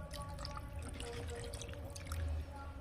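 Water being poured into a simmering chicken curry, a faint, steady watery trickle and splash that swells briefly near the end, with no voices.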